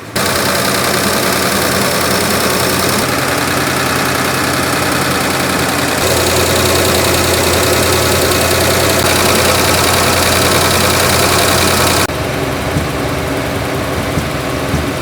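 An old Ford F100 truck engine idles loud and close with a steady, rough rumble and occasional pops, running continuously for the whole stretch.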